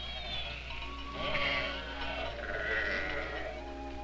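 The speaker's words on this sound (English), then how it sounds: "Now the sheep and goats are safely in, and Tony's work is done for today." Sheep and goats bleat repeatedly in a corral at a Navajo homestead in 1970, with several overlapping calls at moderate distance over a steady low background hum.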